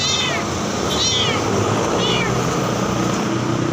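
A cat meows three times, each short and rising, over steady low background noise; the calls sound fairly close.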